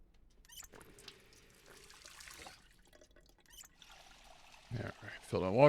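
Water trickles and pours faintly into a bottle being filled in a zombie survival video game, growing louder near the end amid other game sounds.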